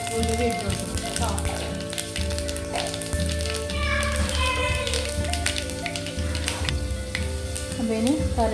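Mustard and fenugreek seeds sizzling and crackling in hot oil for a sambar tempering, a dense continuous fry with scattered pops, close and steady, with music playing underneath.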